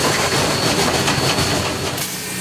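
Steam engine 487 on the Cumbres & Toltec railroad rolls along loudly, its close-up rumble and clattering wheels filling the space, easing slightly toward the end.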